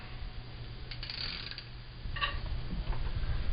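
Metal clamping parts on a No-Mar motorcycle tire changer click and ratchet as locking blocks are swapped for rim clamps, with a few sharp mechanical clicks and a low steady hum, close by and moderately loud.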